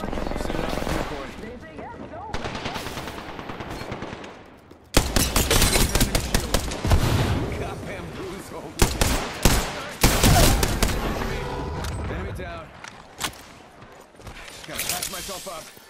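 Gunfire in the Apex Legends video game: rapid automatic bursts and single shots, loud and close, coming in dense volleys with short pauses, mixed with game sounds and voices talking over the action.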